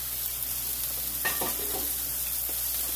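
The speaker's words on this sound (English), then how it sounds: "I've got my grill pan going tonight." Salmon sizzles in a hot grill pan during home dinner cooking, a steady close frying hiss with a few brief stirring or shifting sounds partway through.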